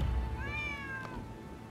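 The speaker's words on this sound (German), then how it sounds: "Mit einer streunenden Katze habe ich nicht gerechnet." A stray cat meows once in the video game Rise of the Ronin, a clear, drawn-out call with a rising and falling pitch, heard near and alone over a low, steady background hum.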